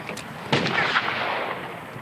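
A pop cannon fires a soda can at a melon, making one sharp, loud blast that is followed by a short rushing burst and scattered impact noise, close up with no voices.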